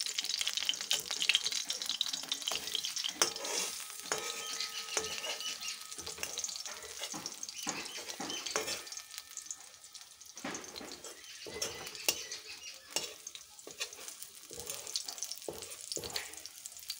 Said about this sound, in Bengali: এক পাশ আমার ভাজা হয়ে গেছে। এবার আমি অপর পাশটা উল্টে নেব।